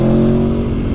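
Motorcycle engine on a standard exhaust revs hard and loud up close, a strong rising drone that eases off toward the end, with no voices.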